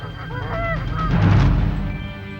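Canada geese honking loudly and close by, several overlapping calls that swell through the middle and then fade slightly, with no talking.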